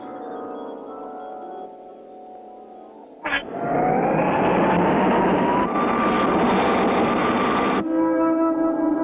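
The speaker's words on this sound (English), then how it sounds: "Clutch pushes the rocket throttle full on as they head for Venus" A cartoon rocket engine kicks in with a sudden burst and settles into a loud, steady roaring whoosh under a rising tone, then drops back to a lower drone.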